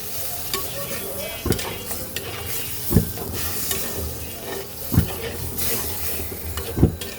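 A spoon stirs spice masala with a little water in a pot over the heat, bringing a soft continuous sizzle broken by several sharp scraping knocks against the pot at irregular intervals.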